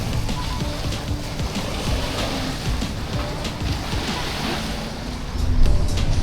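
Surf washing steadily onto Pattaya Beach just after a rainstorm, a continuous broadband wash of water with a slightly louder surge near the end and no voices.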